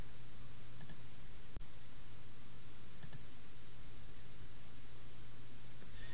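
Mouse clicks while working in Excel, a few sparse, quiet, isolated clicks over a steady low hum.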